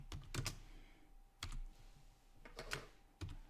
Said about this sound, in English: I've got to remember to type sudo first.